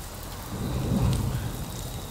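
Heavy rain pours steadily over Sydney Harbour, a dense wash of close patter with a faint low rumble swelling briefly in the middle, no voices.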